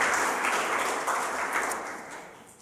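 A church congregation applauds during a Sunday worship service, a steady wash of many hands clapping at moderate distance that swells slightly, then fades toward the end.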